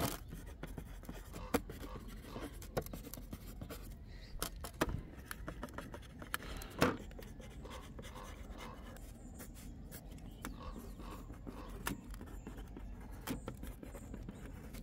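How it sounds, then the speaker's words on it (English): A pen or pencil scratches and taps faintly on paper, writing plant names into a garden bed plan. Soft intermittent strokes and light knocks sound close but quiet, with no talk over them. "So I'm going to write those in."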